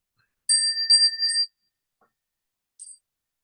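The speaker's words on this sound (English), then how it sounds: "so that I can hit the bell" A bell rung three times in quick succession ahead of bowing to the Buddha at a Buddhist sutra lecture, bright ringing strikes, followed after a pause by a single fainter strike.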